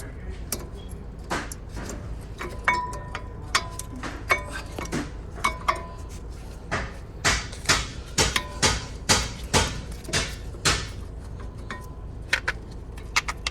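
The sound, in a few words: installing brake pads on Jeep Wrangler front wheel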